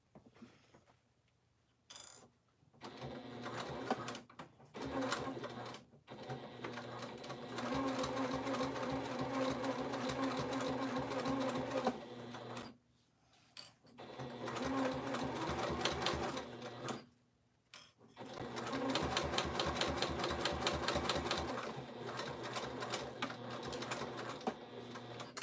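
A sewing machine stitches a modified pack in several long bursts of rapid, even mechanical rattling, close and steady, separated by short quiet pauses.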